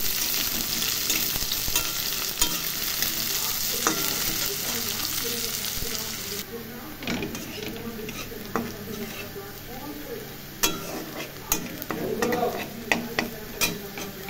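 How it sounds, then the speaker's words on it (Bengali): Chopped onion, chilli and ginger stir-fry in hot oil that already holds browning garlic, for a mash kalai dal tarka. A steady close sizzle runs under scattered stirring scrapes and taps, and the hiss drops partway through. "এবার এগুলো কেটে রেখেছি পেঁয়াজ, লঙ্কা আর আদা, এটা দিয়ে একটু নাড়াচাড়া করে দেবো"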